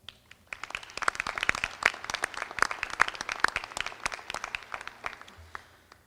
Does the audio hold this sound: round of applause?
yes